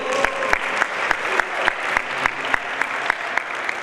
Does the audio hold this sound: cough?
no